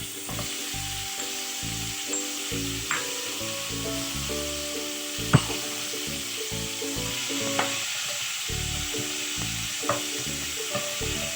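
Ginger, garlic and tomato sautéing with chopped onion in a pan for a Kerala-style South Indian fish stew, a steady close sizzle with irregular scraping stirs and a few sharp clicks, no talking.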